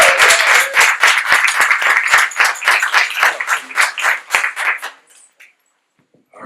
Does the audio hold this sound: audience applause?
yes